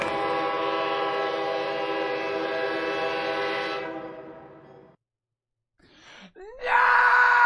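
A train sounds a long, loud, sustained horn as it approaches at close range. The horn fades out into a short silence, then brief rustling and a sudden loud burst of noise follow.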